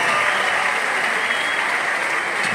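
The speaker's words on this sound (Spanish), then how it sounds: "Quiero que se brinden un fuerte aplauso de veras." An audience at a mariachi concert during the Aste Nagusia festival in Bilbao breaks into loud, dense applause, a continuous roar of clapping that holds steady throughout.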